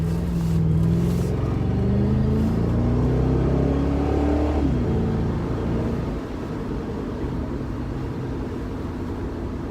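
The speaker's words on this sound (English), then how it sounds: "I'm going to be taking off from a stop, and I'm going to have to get on a little bit" Ford Mustang GT/CS with Borla Touring axle-back exhaust pulling away from a stop, a loud deep rumble rising in pitch through the first gear, then settling into a steadier lower drone as it cruises.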